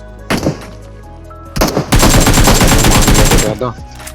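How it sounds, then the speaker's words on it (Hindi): Gunfire in a multiplayer shooter video game: a short burst, a pause, then a loud, dense run of rapid automatic fire that cuts off abruptly, heard alone and close. "मैं वहाँ पे फायर करना शुरू कर देता हूँ"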